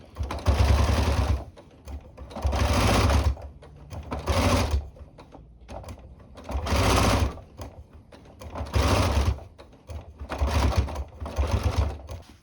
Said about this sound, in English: And then you just need to sew down the length, and you need to sew on this little edge bit.